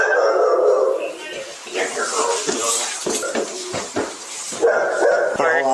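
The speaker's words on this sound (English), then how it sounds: "You need to control that dog, please." A dog barks and yips excitedly during a police bodycam encounter at a home, with sharp repeated barks and whines mixed with people talking nearby.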